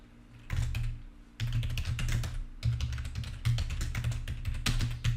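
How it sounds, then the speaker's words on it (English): Fast typing on a computer keyboard, heard close up as bursts of rapid clicking with short pauses between them and no voices. "type your professor's last name"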